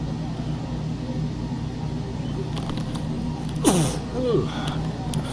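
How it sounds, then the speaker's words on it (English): One sharp, close sneeze from a person seated at a flight simulator, breaking over a steady low hum of fans or engine noise. "Excuse me, I had to sneeze."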